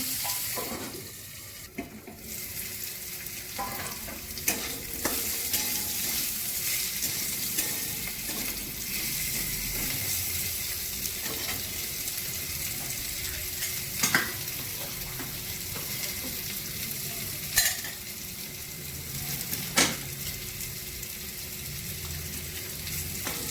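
Steady sizzling of food frying in a pan, a constant hiss with occasional clinks and scrapes of stirring, no talking.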